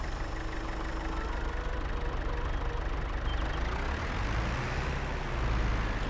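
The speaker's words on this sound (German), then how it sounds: "wir fahren den Traktor an die Seite" Tractor engine in Farming Simulator 22 idling steadily at close range, a low continuous rumble with a slight rise in pitch near the end.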